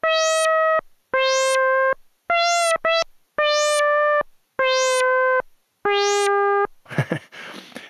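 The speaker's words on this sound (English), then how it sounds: "as I turn the attack, you'll hear it go wow." A Gakken SX-150 MII analog synthesizer playing loud, clean sustained tones in separate bursts, each holding its pitch before cutting off, with a noisy, rough burst at the end.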